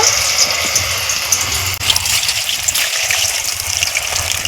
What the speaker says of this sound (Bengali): এখন আমি এক এক করে এই জলখাবারগুলো ভেজে নিব